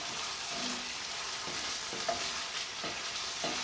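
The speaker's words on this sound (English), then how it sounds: "we got our onion sauteing here" An onion sautés in a pan with Cajun Charles seasoning about to go in, a steady close sizzle and hiss running throughout, broken by a few soft stirring scrapes.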